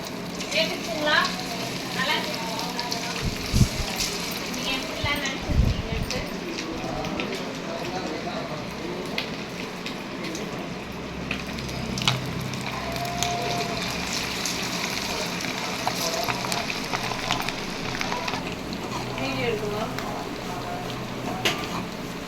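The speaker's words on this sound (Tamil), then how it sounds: "எண்ணெய் சூடானதுக்கப்புறம் சிக்கனை போட்டு பொரிச்சிக்கலாம்." Chicken pieces fry in hot oil in a kadai for chilli chicken, giving a continuous crackling sizzle with occasional louder spatters while a person talks over it.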